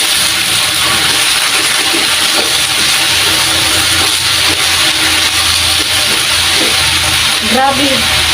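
Vegetables for pakbet fry in natural cooking oil over a low flame, giving a steady, loud, close sizzle with crackling spatters throughout and a brief voice near the end.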